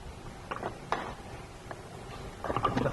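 Metal carrier bolts being fitted to the center support bearing of a 1998 BMW E36 3-series driveshaft, giving a few faint, scattered clicks and taps of tool and bolt against metal close by in a quiet garage.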